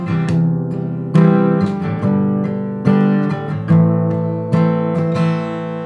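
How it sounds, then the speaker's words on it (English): Acoustic guitar strummed in a steady repeating pattern of four down strokes and one up stroke, close and loud, with chord changes every bar and no voices. "four down strums and then one up strum just before you switch"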